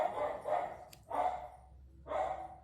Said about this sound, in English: Break for some dog barking.